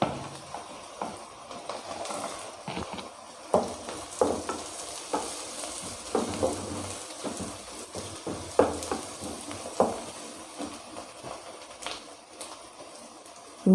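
Onion and green chilies sauté in a pan for restaurant-style egg rice, a steady sizzle broken by repeated stirring scrapes and clinks of a spatula, close and moderately loud with no talking.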